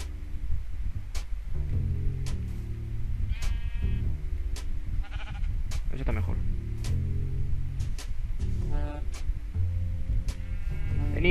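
Sheep bleat again and again, loud and close, with quavering calls spread through the scene over a rhythmic background beat while someone speaks Spanish between and over them.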